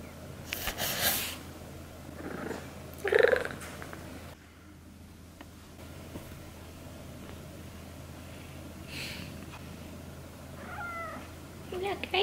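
A pet cat indoors gives a few close, clear meows between stretches of soft purring, with a person talking nearby.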